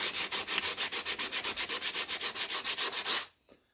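Steady back-and-forth sanding strokes scrub rust off a BSA engine part, about twenty rhythmic passes, loud and close, ending in a quiet pause.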